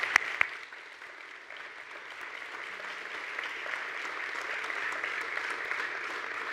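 Audience applause at a state arts and humanities awards ceremony, a couple of sharp claps at first, then a soft, even crowd clapping that swells slightly and holds, heard from a distance.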